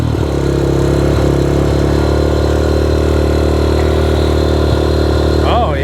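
A Yamaha Raptor 125 ATV engine idles steadily and loudly up close, a constant rumble that stays even throughout, with a brief rise near the end.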